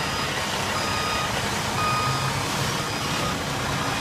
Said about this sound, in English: Got a backup rear beeper.